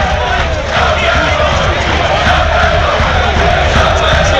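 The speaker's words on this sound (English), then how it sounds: "751 Southend fans singing and chanting and clapping." Several hundred away football fans at a Forest Green Rovers versus Southend United league match sing, chant and clap in the stadium, a loud, continuous roar of massed voices and crowd noise filling the whole stretch.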